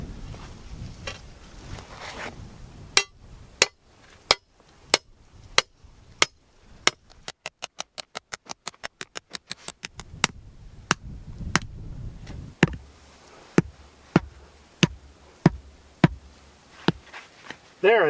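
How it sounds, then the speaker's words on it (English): A ground auger anchor being pounded into the ground for a cabin tie-down: sharp metallic strikes, first spaced and single, then a fast rapid burst of hits, then spaced blows again, close and loud. "line it up so this particular ridge can fit snugly against the bar part of this ground auger and just pound it in"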